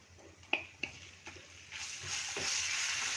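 Ginger-chili paste for a samosa filling sautés in a pan over low flame, with a few quiet clicks and taps of stirring and then a soft, steadily rising sizzle.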